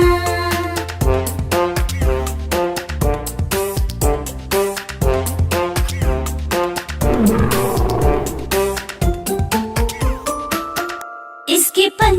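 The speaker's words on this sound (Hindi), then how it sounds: "उसकी एक दहाड़ सुनकर भाग जाए सब जानवर।" A roaring lion in a Hindi children's cartoon song, the growling roar blended into a bouncy, loud musical backing with bright chimes, ending in a brief drop to silence.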